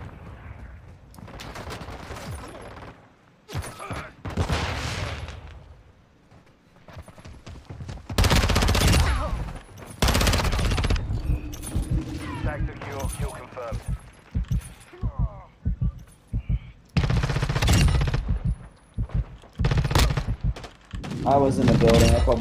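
Gunfire in Call of Duty: Modern Warfare 2 multiplayer, bursts of rapid shots and loud thumping volleys in clusters separated by short quiet gaps, with a player talking over parts of it.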